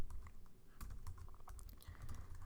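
Keys clatter on a computer keyboard in quick irregular bursts of taps, faint and close, with no voices.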